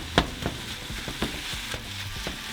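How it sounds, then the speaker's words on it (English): Ground meat sizzles in a pan while a utensil scrapes and breaks it up, the frying hiss steady beneath repeated sharp stirring taps at close range. "we're going to throw in our meat. We're just going to break it down a little."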